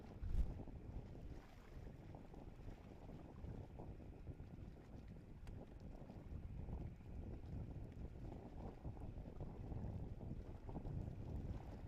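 Terran 1, a 3D-printed rocket, lifting off from Cape Canaveral: a faint, distant, continuous low rumbling roar with wind-like noise, steady throughout.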